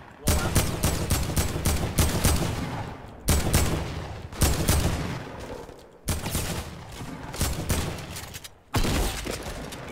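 Fortnite gameplay carries repeated volleys of loud, rapid gunfire, several sustained bursts separated by short pauses.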